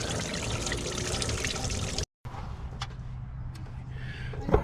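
Coolant drains from a 2014 Chevy Cruze 1.4L into a catch pan in a steady, close trickle and splash. It breaks off for a moment midway, then resumes more quietly with faint drips.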